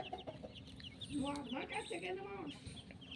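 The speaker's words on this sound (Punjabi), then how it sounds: "ਇਹ ਮੁਰਗੀ ਨੇ ਬੱਚੇ ਕੱਢੇ ਆਂਡਿਆਂ ਚੋਂ ਲੇਕਿਨ ਬੱਚੇ ਇਸ ਮੁਰਗੀ ਦੇ ਨਹੀਂ" A hen that hatched a clutch of chicks clucks softly among them, her calls mixed with a person talking nearby.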